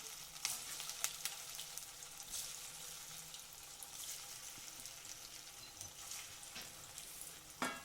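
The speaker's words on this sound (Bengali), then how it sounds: "আমি আবারও বাকিগুলো তেলের মধ্যে ছেড়ে দিলাম" Steady sizzling and bubbling of semolina sweets deep frying in hot oil, with occasional sharper crackles and pops, close up and without talk.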